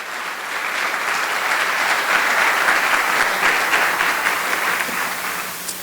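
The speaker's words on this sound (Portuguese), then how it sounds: "Então dá uma salva de palmas ao Senhor." A church congregation breaks into sustained, loud applause during a pastor's sermon, dense clapping that swells and holds steady for several seconds with no speech over it.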